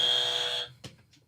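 A trivia game buzzer sounds as a loud, sustained electronic tone that cuts off abruptly, followed by a couple of brief knocks and clicks.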